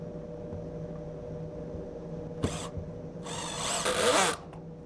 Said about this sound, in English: Just apply the glue to your joint and drive the self-tapping screw.